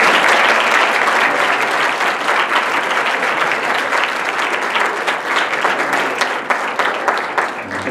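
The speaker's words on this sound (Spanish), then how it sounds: "Un aplauso a la doctora." An audience at a congress lecture gives the doctor a loud, sustained round of applause, dense clapping that fills the hall for several seconds and tapers only slightly near the end.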